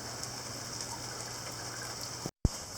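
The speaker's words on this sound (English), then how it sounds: "Despite the amount of rainfall we're getting." Heavy rain falls steadily in a dense, even wash of sound that runs without a break, then stops for a moment near the end and resumes.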